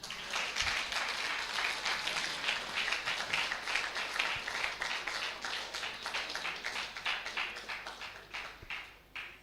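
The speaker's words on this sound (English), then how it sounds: "A very resounding and pregnant applause for him." Sustained applause from an audience at a university inaugural lecture honouring Professor Emmanuel Arhin, a dense, steady wash of many hands clapping at moderate distance, tapering slightly toward the end.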